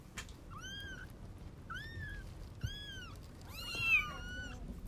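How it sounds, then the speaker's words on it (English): Baby kittens meowing: four separate high, drawn-out meows at a steady pace, the last one louder and more strained, close by with no talk. "our nature nugget today is sweet, adorable baby kittens"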